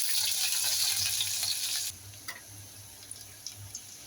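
Chopped onion and green chili fry in a pan for okra and dried shrimp curry, a loud, dense sizzle that suddenly drops to a quieter crackle with scattered pops, close up and without speech.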